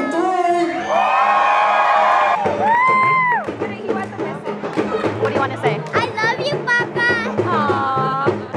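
Wedding reception guests at a Nigerian and Pakistani wedding scream and cheer loudly together, a sustained crowd roar that breaks into scattered whoops and yells.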